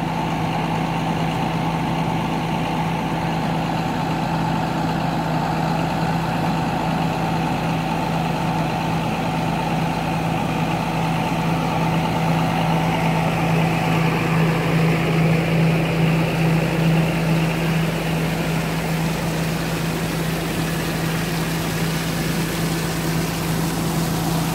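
A John Deere 8200 tractor engine runs steadily at a riverside field, a loud, continuous droning hum with a strong low tone that holds evenly throughout, rising slightly midway, with no speech.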